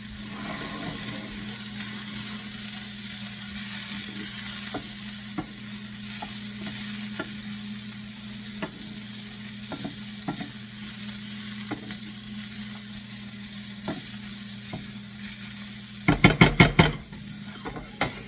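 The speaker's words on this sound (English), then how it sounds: "they want us to stir it and let it cook a little longer" A seasoned stuffing mixture for stuffed tilapia cooks in a pan, a quiet continuous sizzle punctuated by scattered spoon scrapes and taps, ending in a brief burst of rapid clattering against the pan.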